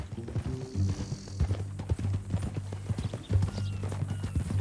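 Horse hooves clip-clop in a steady rhythm close by in the video game Red Dead Redemption 2, with a low rumbling background and faint murmur underneath.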